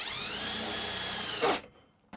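A power drill drives a lag bolt into a mounting bracket, whining at a steady high pitch for about a second and a half and then stopping abruptly, with a faint click afterward.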